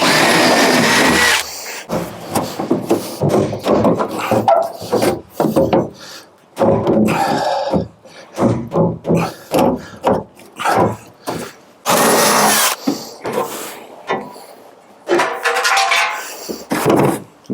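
A 5.5 mm drill bit grinds out rivets from the bulkhead of a Land Rover Defender 90, in loud close bursts of rough, scraping metal noise broken by short pauses.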